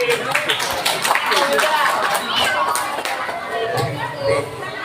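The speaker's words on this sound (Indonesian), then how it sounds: "tepuk tangan" A crowd claps steadily at a sermon in Ancol Selatan, dense hand-clapping running throughout with voices and chatter mixed beneath.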